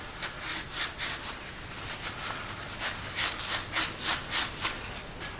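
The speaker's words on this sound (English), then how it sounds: "This is a Scotch-Brite pad that I use in my parts washer." A Scotch-Brite pad, worn from use in a parts washer and soaked with diesel fuel, scrubs against a surface in a series of short, rhythmic rubbing strokes, close by with a steady background hiss.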